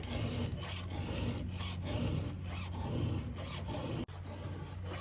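A square file worked by hand across a square-ground chainsaw chain tooth, giving close, rhythmic rasping strokes in a quick back-and-forth series of about a dozen passes, ending with a brief pause and a final stroke.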